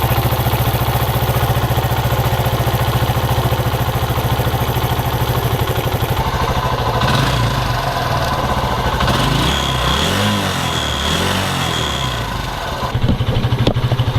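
A Suzuki GN 125 motorcycle engine idles steadily and loudly close by, with an even low rumble and some mechanical clatter that shifts slightly in the second half.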